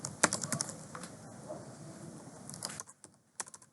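Python code is typed on a computer keyboard as a fast run of close, crisp key clicks that thins out toward the end, with no talking.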